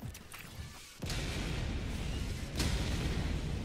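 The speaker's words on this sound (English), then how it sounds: "I just think it's firing orbital barrage." Orbital barrage strikes in Helldivers 2: heavy booming impacts land in sequence, a sharp blast then sustained rumbling and another hit, loud and rolling with battlefield noise.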